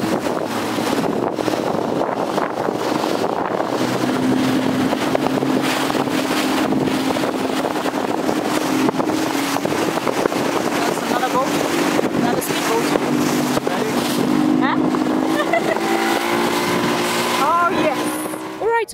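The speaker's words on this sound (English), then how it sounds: "There's the jet ski going out of the port." A jet ski motoring out of a harbour port on Crete, heard from an accompanying boat as a steady engine drone under heavy wind noise on the microphone, with water rushing throughout.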